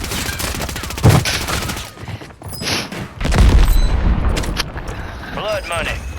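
Gunfire and explosive booms in a Call of Duty Warzone Plunder quads match, loud bursts of shots mixed with game sounds and radio voice lines throughout.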